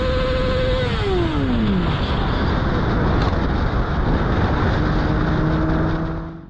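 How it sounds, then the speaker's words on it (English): Motorcycle engine revving hard on a road, a loud continuous roar that sweeps down in pitch, then settles and fades near the end, with traffic noise around it. "Biker had to rev his bike for this reckless driver just to be noticed on the road"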